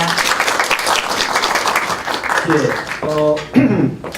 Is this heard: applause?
yes